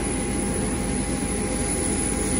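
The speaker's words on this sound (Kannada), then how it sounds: "ಇದು ನಾವು ಬಂದಿದ್ದು ಫ್ಲೈಟ್ ಇದು" An airplane engine at an airport, a steady loud rumbling roar that holds evenly for the whole moment.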